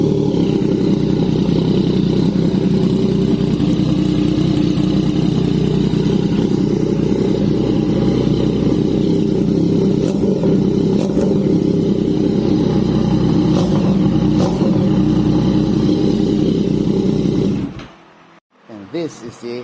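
A Yamaha MT-09 with an SC Project CRT full-system exhaust runs at a loud, steady idle with rising revs and a few throttle blips, close to the mic, before cutting off abruptly near the end.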